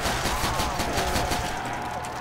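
Gunfire in the Call of Duty: World at War zombies mode with a Dragunov sniper rifle: fast, evenly spaced shots crack in a loud, continuous string, heard up close with no talking.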